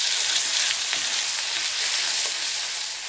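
Spice paste for rendang sizzles steadily as it is sautéed in a large wok, a loud, close, continuous frying hiss with no talking.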